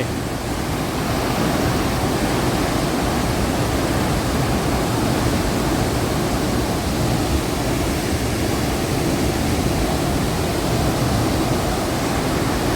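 A powerful waterfall in Jharkhand, the state's highest, pours down in an unbroken, dense roar heard up close, loud and even throughout with no voices.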